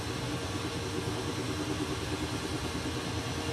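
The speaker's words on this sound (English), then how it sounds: "That engine's getting nice and stable." Steady aircraft engine running in a flight simulator game at Nellis Air Force Base, a continuous even drone with a low rumbling texture, moderately loud and unbroken, no talking.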